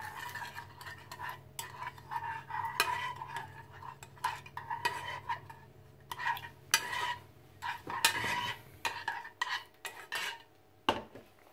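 Noodles with meat and vegetables stirred in a bowl, giving repeated scraping and clinking of utensils against the dish in irregular bursts, close and moderately loud, without talk.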